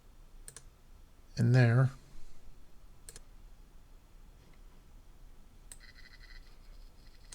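Sparse, isolated mouse clicks at a computer during Blender 2D animation work, a few sharp ticks spread across a quiet room, with a brief stretch of speech between them.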